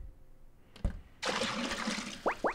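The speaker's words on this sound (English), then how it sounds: "So flooded with water." Water floods a level in the video game Recursed, a sudden rushing, gushing wash that swells in after a brief thump, then continues with bubbly burbles near the end.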